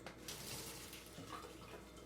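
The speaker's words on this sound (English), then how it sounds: "so we're just gonna drain the water." Water from a pot of cooked lentils pours out in a steady, close rush for about two seconds, a continuous splashing flow with no talk over it.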